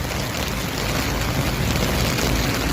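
Heavy rain pours down steadily outdoors during a prolonged wet spell, a dense, even hiss of drops that fills the whole stretch without letting up and with no voices.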